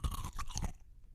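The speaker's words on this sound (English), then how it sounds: "I'm going to see if I can get a small piece of ice and crunch down on that ice" Teeth crunch down on a small piece of ice, giving several close, crisp cracking chews in quick succession before fading into low quiet, with no talking.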